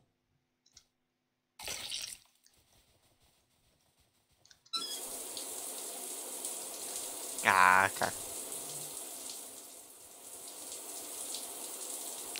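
Tap water runs steadily in South Park: The Stick of Truth, a continuous hiss after a few clicks, with a brief voice sound and a short rumble partway through.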